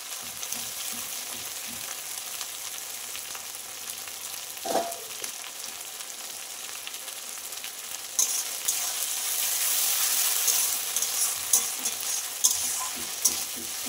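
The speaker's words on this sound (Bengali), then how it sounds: "আমি একটু মশলার প্লেটটা ধোয়া জল দিয়ে দিচ্ছি" Rinse water from a spice plate goes into a hot pan of Bengali meat curry, raising a loud, steady sizzle and hiss over ongoing stirring sounds, with no talking.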